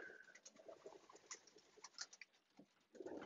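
Racing pigeons coo softly on box perches in a loft during an evening feed, low murmuring calls with light wing and foot patter, faint and close.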